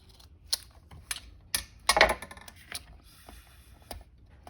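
Scissors trim paper for a handmade journal, a handful of sharp, close snips and clicks scattered at irregular intervals, quiet between cuts.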